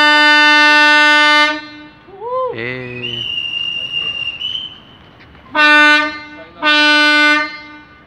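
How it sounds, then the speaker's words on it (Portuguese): A CPTM series 1100 commuter train on its last trip sounds loud, close horn blasts: one long blast, a pause with rising tones and rumble, then two more long blasts in succession. "Último trem, hein, gente?"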